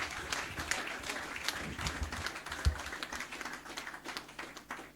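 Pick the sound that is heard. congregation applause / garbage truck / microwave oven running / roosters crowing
congregation applause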